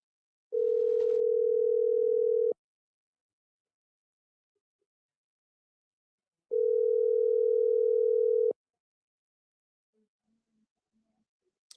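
Two long steady telephone tones sound loud and close, each about two seconds with a long silent gap between, as a call goes unanswered; faint clicks follow near the end.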